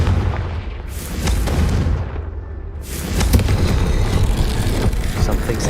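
Confringo blasting spell from Hogwarts Legacy going off as a loud, sustained roar of fiery explosions, with a brief lull midway before a second heavy burst swells back in.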